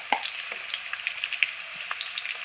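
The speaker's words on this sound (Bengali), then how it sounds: "তেলও গরম হয়ে গেছে। আমি আলুগুলো এখন ছেড়ে দিচ্ছি ভাজার জন্য।" Potatoes seasoned with salt and turmeric fry in hot oil, a steady close crackle of sharp sizzling pops scattered throughout, with no talking.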